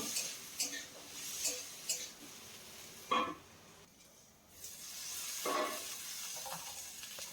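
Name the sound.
cauliflower and potatoes frying in a pan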